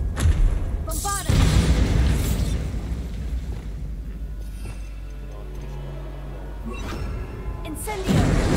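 A Bombarda explosion spell goes off in the video game Hogwarts Legacy, with loud booming blasts near the start and again at the end and a rumbling low tail between them, all over a constant low game ambience.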